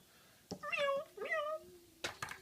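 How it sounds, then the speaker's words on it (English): A cat toy modeled on Mr. Bean's cat gives two clear electronic meows in a row, each rising then falling, followed by a couple of short clicks or taps near the end. "This is the cat of Mr. Bean"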